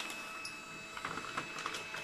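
A dot matrix printer feeds paper out with a faint mechanical whir and a steady high whine, broken by small ticking clicks of the feed mechanism.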